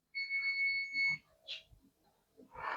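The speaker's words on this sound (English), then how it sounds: "That's my oven timer going off." Kitchen oven timer beeping, a steady electronic tone lasting about a second, followed by quiet rustling and faint household sounds.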